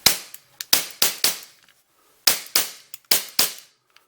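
A KWC Model 75 CO2 blowback BB pistol dry-fires with no BBs loaded, giving sharp, loud snapping cracks in quick pairs and short bursts, about ten shots with a brief pause midway, and no talking.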